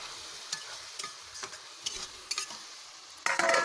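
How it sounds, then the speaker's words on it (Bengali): Spice masala paste with a little water sautéing in a pan for an egg and lentil curry, gentle sizzling broken by rhythmic stirring scrapes, then a brighter loud sizzle at the end. "দেখেছো কতটা সুন্দরভাবে কষিয়ে নিচ্ছে আমি"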